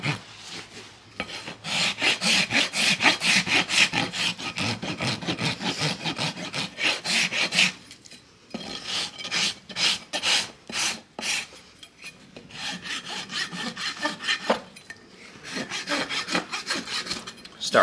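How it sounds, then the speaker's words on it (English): A farrier's rasp scrapes across a horse's hoof in fast, rhythmic back-and-forth strokes, loud and close, broken by short pauses between bursts. "When I'm rasping the foot, I'm going to hit the high spots first and blend the high spots into the low spots."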